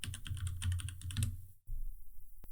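Rapid keystrokes on a computer keyboard while entering text into a web design tool, a dense run of clicks that pauses briefly before resuming, close and clear with no voice.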